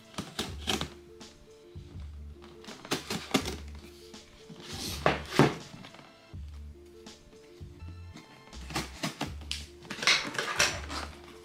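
Metal cutlery clattering and scraping in a drawer or tray during a rummage for a knife, close and loud, in repeated bursts of jangling with brief pauses between.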